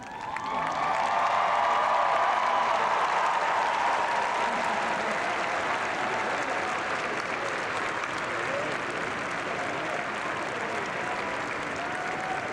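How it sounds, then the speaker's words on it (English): A graduation audience in a large hall rises and cheers, loud sustained applause and shouting swelling at first, then settling into a long, steady roar of clapping. "I ask that you rise toward these most important people and cheer"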